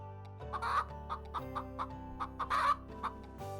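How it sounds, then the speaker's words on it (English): A chicken clucks in a quick series of short, throaty calls, close and fairly quiet, with no talking. "This is a chicken."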